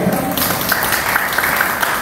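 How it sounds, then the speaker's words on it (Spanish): Applause from an audience at the signing ceremony for a collaboration agreement, a brief burst of clapping that carries over a faint background tone. "Un aplauso para Filomena."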